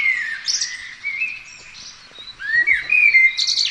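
Birds chirp in a recorded sound effect played during a radio weather segment: bright, high tweets and whistled calls come in quick bursts throughout, fairly loud, with no talking over them.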